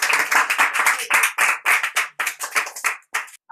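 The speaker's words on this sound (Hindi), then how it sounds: "ताली के साथ स्वागत।" A small village gathering claps to welcome a guest, a loose cluster of hand claps in uneven bursts with brief gaps, close and fairly loud, tapering off near the end.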